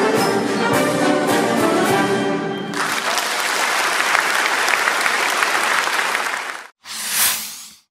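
Audience applause for a majorette troupe at a Sunday performance in the Kodály Centre, a loud, dense wash of clapping that swells, carries on steadily, then breaks off briefly before a last short burst.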